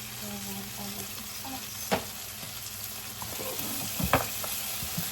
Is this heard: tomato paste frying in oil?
yes